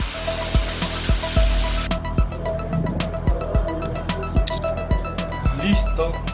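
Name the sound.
final rinse of the Christmas tree base with water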